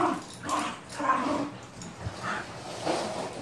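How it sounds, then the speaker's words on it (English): Husky puppies play indoors, giving soft whimpers, yips and whiny vocal bursts in an irregular, close-up run with no talk. "The puppies are going wild"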